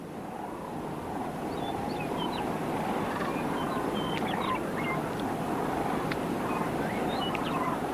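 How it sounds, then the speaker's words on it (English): Snow geese in a passing flock call overhead, small honking notes scattered above a steady, dense wash of background noise, fairly distant and continuous. "overhead, flocks of snow geese pass by on their way back south"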